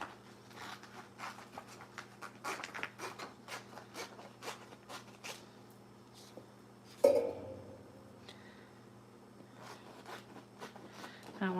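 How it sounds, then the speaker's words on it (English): Printed sticker images are cut out by hand with a run of soft, quick snips and paper rustles, followed by a sharper crinkle of paper being handled, all close and fairly quiet against a faint hum. "I'm going to cut a couple of these images out."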